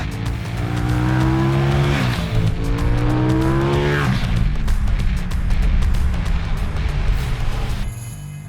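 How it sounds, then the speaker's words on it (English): A KTM 790 Duke motorcycle revs hard and pulls away, its engine note climbing through the gears in loud, close sweeps with a brief drop between shifts before cutting off near the end. "He's off to ride the 790 Duke."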